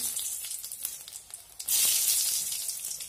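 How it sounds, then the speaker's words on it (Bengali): Dried red chillies, split and dropped into two spoons of hot mustard oil, set off a loud, steady sizzle that flares suddenly and keeps hissing at close range. "এর মধ্যে আমি একটুখানি 2 চামচ সরষের তেল গরম বসিয়ে দিয়েছি। এখন 2টা শুকনো লঙ্কা চিড়ে দিয়ে দিচ্ছি।"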